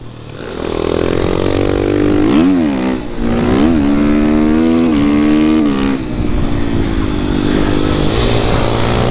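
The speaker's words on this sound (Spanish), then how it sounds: "Esta moto es demasiado espectacular. Es muy potente en la frenada, en la acelerada." A racing motorcycle screams close by, engine pitch rising through gears with sharp shifts and revving dips, loud and continuous, with another bike nearby on the track.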